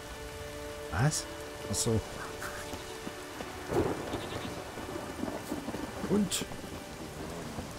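Steady rain falls with rumbles of thunder in the video game The Witcher 3, a constant wash of rainfall under several low rolling booms, with someone speaking briefly in German.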